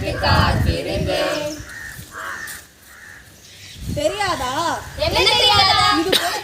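Student volunteers in an outdoor street play at a village assembly imitate crows with wavering, cawing voices, mixed with children's voices and spoken lines, loud and near.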